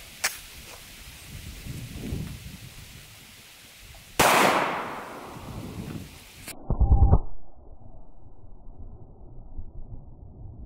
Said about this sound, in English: let's do the regular full metal jacket 9mm first, and then we'll see how the polymer bullet compares